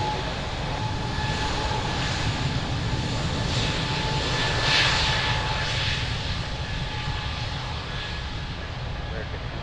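Airliner engines roar steadily on runway 02 at Lisbon Airport, a broad continuous rumble swelling slightly midway, heard at moderate distance with radio chatter possible underneath.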